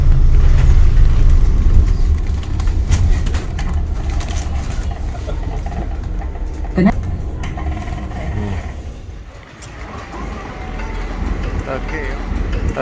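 A city bus in Brighton hums along with a low engine rumble, rattles and road noise, easing and slowing toward the end, while voices speak inside the cabin.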